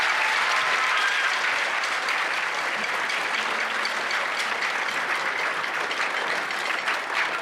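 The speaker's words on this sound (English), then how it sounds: "Give him a big round of applause." Applause from the audience at a middle school band holiday concert fills the room, a broad, steady wash of clapping held at a consistent level throughout.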